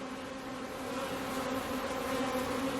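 Steady, dense insect buzzing from many honeybees close by around a hive, a continuous droning hum with no voices.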